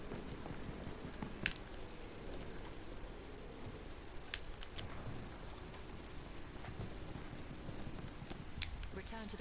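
Horse hooves clip-clop in the video game Battlefield 1, faint and steady under a dense rumble of gunfire and battle noise, with a few sharper impacts.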